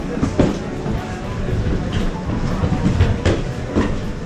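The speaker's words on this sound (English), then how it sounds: "you can take this little tram up to here from where the ship is." A small free tram runs at Icy Strait Point in Alaska, rolling close by with rhythmic rail clicks and clunks over a low rumbling drone, steady and fairly loud.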